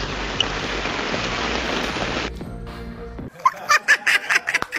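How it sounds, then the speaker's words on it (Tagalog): Heavy rain pours down during a storm, a loud, dense, steady hiss of large drops that fills the first three seconds before cutting out, after which a voice talks. "Ang lakas pala ng ulan dyan"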